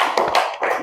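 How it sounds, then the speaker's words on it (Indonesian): Brief burst of applause for a classroom group, a few quick close hand claps and taps lasting under a second. "kita kasih tepuk tangan untuk kelompok 2"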